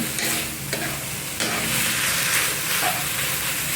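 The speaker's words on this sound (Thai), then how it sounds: "ผัดให้สุกเลย" Minced pork with vegetables and glass noodles stir-frying in a hot pan, a loud steady sizzle with scraping stirs, including a sharp scrape around the middle, and no voices.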